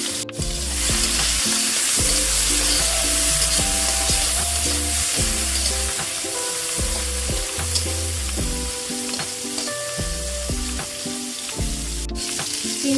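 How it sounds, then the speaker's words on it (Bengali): Shrimp frying in oil in a kadai, a loud continuous sizzle with stirring clatter throughout, no voices. "এবারে কড়াইতে বেশি ভেজে নেব চিংড়িগুলো।"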